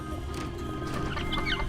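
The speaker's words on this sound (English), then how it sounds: "Look at all these little chickens." A flock of small chickens clucks in Dungeons 4, soft busy clucks and chirps set over a steady low background drone.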